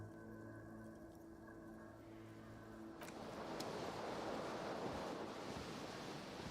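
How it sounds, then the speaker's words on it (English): Wind gusting in the video game Disco Elysium: after a quiet, tonal stretch, a broad rush of wind swells in at the midpoint and keeps blowing steadily and fairly loudly to the end, with no voices. "A cool wind gushes in."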